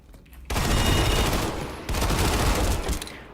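Loud, close bursts of automatic fire from a TR MAX weapon in the Planetside 2 video game, firing at 845 rounds per minute. Two dense, rattling volleys run almost back to back after a brief quiet start.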